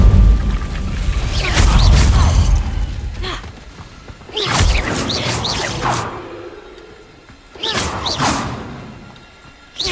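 An Incendio fire spell cast in Hogwarts Legacy, heavy booming whooshes of flame and impact thuds in several loud bursts with rumbling tails, a dense game soundscape with no talking.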